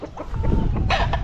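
Chickens cluck on a farm with dense overlapping calls, loud and close, and a brighter squawk near the end.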